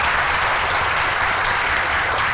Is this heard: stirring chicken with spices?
no